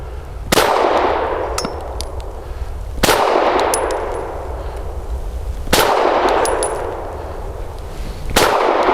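A Tisas PX-9 Gen 3 Tactical pistol fires four sharp shots about two and a half seconds apart, each followed by the ringing metallic clang of a steel target.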